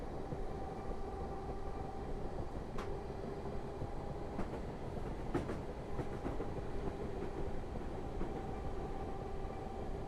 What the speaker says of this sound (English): I'm going to take the throttle completely off and see how the train responds.